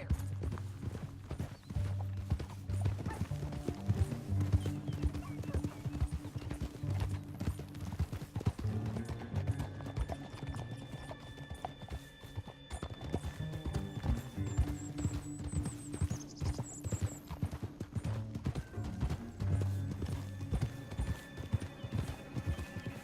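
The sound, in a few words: horse hooves galloping in video game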